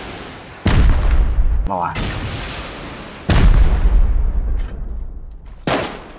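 Explosions blowing open a roof in the video game Rust: three loud, close booming blasts spaced a few seconds apart, each with a long decaying rumble, and a voice speaking briefly between them.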